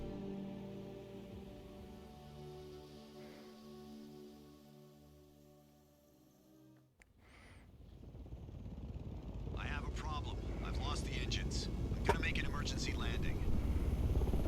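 A Dune video game ornithopter in flight: a droning engine hum with steady tonal harmonics fades away, then a sudden whoosh gives way to loud broadband rushing rotor and wind noise, with voices talking over it.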